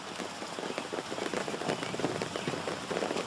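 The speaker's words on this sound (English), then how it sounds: "Here comes the rain." Steady rain falls outdoors during rope knot-tying training, a dense continuous patter of drops hitting surfaces close by, loud and unbroken with no talking.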